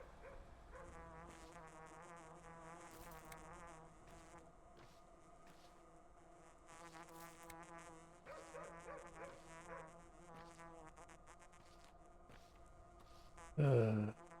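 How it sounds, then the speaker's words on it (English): Insects buzz steadily through a dim scene in the video game Pathologic 2, a thin droning hum layered over low ambient game music, with a short louder burst near the end. "Still hearing buzzing sounds, but I can't see."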